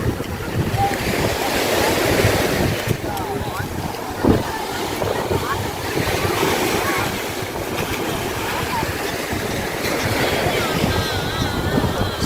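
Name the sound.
sea waves at a beach with people bathing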